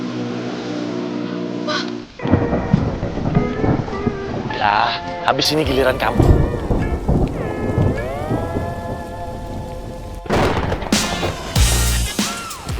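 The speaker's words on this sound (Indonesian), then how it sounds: "Hujannya makin deras nih." Heavy rain pours with rumbles of thunder beneath a family conversation, as voices talk over the steady downpour.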